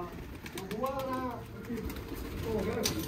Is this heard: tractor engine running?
no